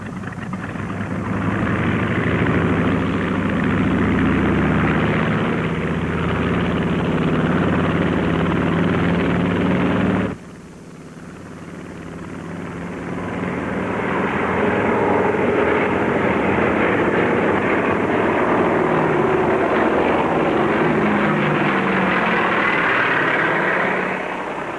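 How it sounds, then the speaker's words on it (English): Seaplane taking off: a loud, continuous propeller engine drone that breaks off abruptly partway through, then builds back to a full, steady roar. "Olympic seaplane, you're cleared for takeoff."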